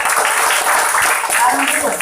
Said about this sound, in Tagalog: Palakpakan po natin si Lord sa Lord